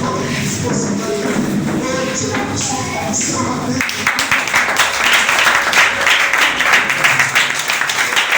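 Congregation at a French-language church service standing to give Jesus an offering of applause and acclamation, loud sustained clapping and shouting from a crowd, rising in intensity midway and continuing without pause.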